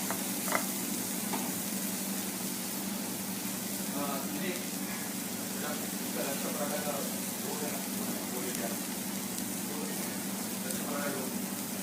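Lachha paratha frying in oil on a pan gives a steady, continuous sizzle throughout, with soft stirring and clatter sounds and faint speech-like murmurs in the background.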